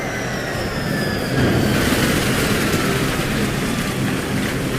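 Helicopter flying over a raft during a sea rescue exercise, a loud steady broadband rotor and engine roar with a faint high whine, continuous and close throughout.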